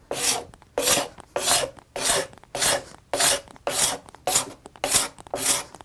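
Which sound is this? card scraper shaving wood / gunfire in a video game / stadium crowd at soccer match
card scraper shaving wood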